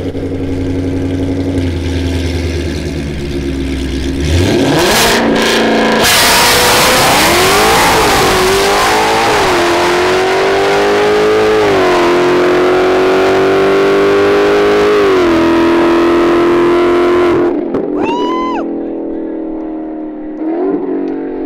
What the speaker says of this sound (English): I guess I'm gonna hop into Shelby and make another pass.